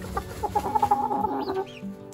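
A young incubator-hatched rooster in a backyard coop gives a single close crowing call of about a second, with softer clucking from the surrounding hens before and after it.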